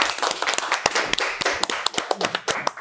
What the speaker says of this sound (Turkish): O zaman alkışlarla Oğuz'u sahneye alıyoruz